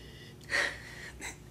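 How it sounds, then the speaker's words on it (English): Two quick sniffs close to the microphone, a sharp inhale followed by a shorter, softer one. "Sniffy sniff."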